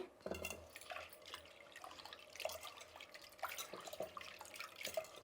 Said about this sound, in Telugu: ఇప్పుడు మనం పప్పు అనేది బాగా కడుక్కునేస్తామండి